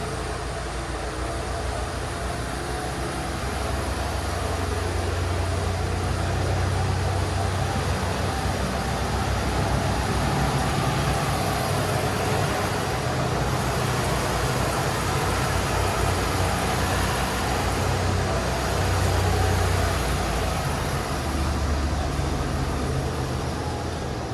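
A 1989 Mercury Grand Marquis engine idles with a steady, low rumbling drone and an even broadband hum that holds at a constant level throughout, with no voices.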